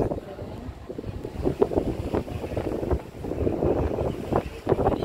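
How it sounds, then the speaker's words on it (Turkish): Steady wind buffeting the microphone out on open water aboard a ferry, with a low rumbling roar and gusts that swell and ease throughout. "Şu anda güzel bir rüzgar var"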